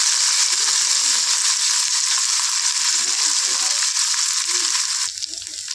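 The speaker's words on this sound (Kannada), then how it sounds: "ಜಜ್ಜಿ ತಗೊಂಡಿರೋ ಮಸಾಲೆ ಶುಂಠಿ ಬೆಳ್ಳುಳ್ಳಿ ಜೀರಿಗೆ ಮೆಣಸಿನ್ಕಾಯಿ ಇದೆಲ್ಲನೂ ಹಾಕ್ಕೊಂಡು ಹಸಿ ವಾಸನೆ ಹೋಗೋವರೆಗೂ ಫ್ರೈ ಮಾಡ್ಕೋಬೇಕು" Crushed ginger, garlic, cumin and green chilli masala fry for vada pav with a loud, steady, hissing sizzle close up that drops away abruptly just before the end.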